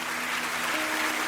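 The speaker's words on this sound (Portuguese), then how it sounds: "Vamos aplaudir o Senhor Jesus" Church congregation applauding together, a dense steady clatter of many hands filling the room at moderate loudness, with no voices rising above it.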